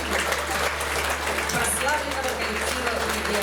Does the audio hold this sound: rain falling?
no